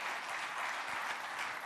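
An audience applauds at a police officers' swearing-in ceremony, with dense, steady clapping from a crowd, moderately close and continuous.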